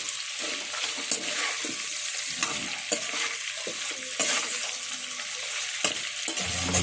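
Meat sautéed in a pan with salt sizzles steadily while a utensil stirs and scrapes against the pan in repeated knocks, close and moderately loud.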